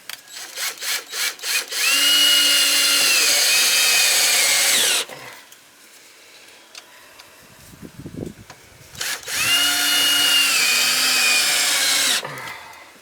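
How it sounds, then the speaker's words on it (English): A power drill loosening screws on an outdoor shower: two long loud whirring runs, each starting with short stuttering pulses, separated by a quieter pause with brief handling noise, very close. "get a couple of screws loose now"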